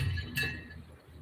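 A single bright clink of glass from an old intro sound effect, brief and fairly faint, ringing over a low background hum.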